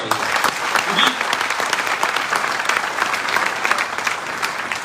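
Loud, sustained applause from a seated audience in a hall, continuous dense clapping throughout with a few voices faintly audible underneath.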